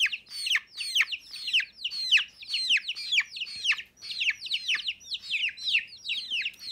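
Young hens and roosters peep in a dense, steady run of rapid, high, falling calls, close by and continuous with no talking.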